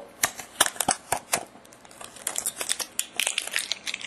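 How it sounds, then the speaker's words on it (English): A sticky tape flap is peeled off a plastic trading card holder in close, crisp crackles and crinkles. The short bursts come in an irregular rhythm with no talk. "Let's pull that sevens flap off there so we can actually see this"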